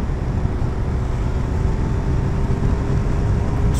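Motorcycle riding along a bumpy, potholed road near İğneada, a steady low engine rumble mixed with wind and road noise, loud and continuous from start to finish.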